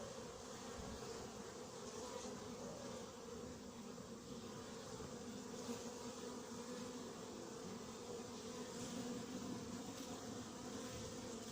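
A steady buzzing drone of bees around an open hive under hornet attack in Montgeron, fairly close and continuous, with occasional louder passes of wings over the hum.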